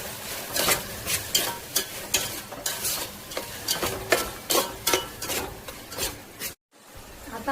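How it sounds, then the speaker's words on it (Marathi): Pav bhaji vegetables with capsicum are sautéed in oil, the spatula scraping the pan in steady rhythmic strokes over a continuous sizzle. The sound cuts out for a moment near the end, and no one speaks. "आता आपण हे सगळं तेल सुटेपर्यंत परतून घेतलेलं आहे"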